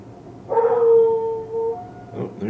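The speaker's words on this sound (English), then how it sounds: "Oh, there's the dog. He's awake." A dog lets out a single drawn-out, tonal howl that rises and holds for about a second before trailing off, fairly close and clear, with faint game-like background sound and no talk.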